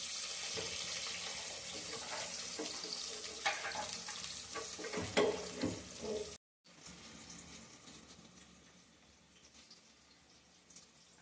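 Sliced onions fry in hot oil with whole spices for mutton biryani and are stirred with a spoon. A steady close sizzle carries scraping stirs, then drops to a quieter hiss after a brief cut.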